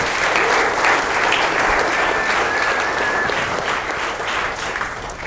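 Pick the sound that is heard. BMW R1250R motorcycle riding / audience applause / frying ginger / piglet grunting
audience applause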